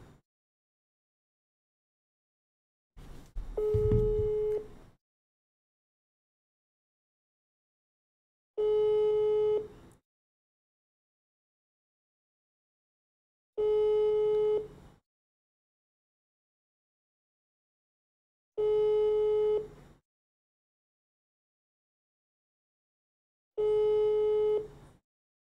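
A phone call gets a steady tone that pulses about every five seconds, each beep lasting roughly a second and separated by silence, clear and moderately quiet.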